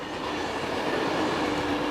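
A car-carrying shuttle train running through the Eurotunnel under the Channel, heard from aboard as a steady, muffled rolling rumble with a faint rhythmic rail clatter.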